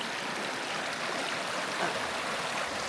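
Steady broadband rush of creek water flowing outdoors along a hiking trail, continuous and fairly close with no pauses, no voices over it.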